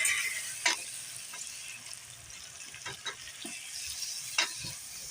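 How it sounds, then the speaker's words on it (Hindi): Tomatoes and green chillies hit a pan of frying ginger and garlic, a steady close sizzle broken by several sharp stirring scrapes and clacks of a spoon. "अब हम टमाटर हरी मिर्च भी भून लेंगे।"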